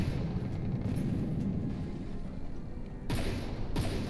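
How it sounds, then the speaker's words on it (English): Missile fire from a Corsair warship in the naval combat game From the Depths, a steady rumbling barrage of booms with two sharper blasts breaking through near the end. "We are taking more missile fire from that Corsair."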